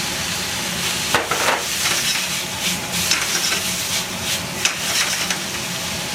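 Kimchi searing in a hot pan for Japanese-style kimchi fried rice, a steady close sizzle with occasional stirring scrapes and clicks, no talking.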